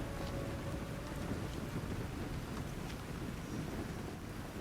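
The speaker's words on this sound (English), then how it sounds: "A storm is coming." Rain and thunder fill a storm scene in the video game Assassin's Creed Odyssey, a constant heavy downpour hiss with a low rumbling underneath and no voices.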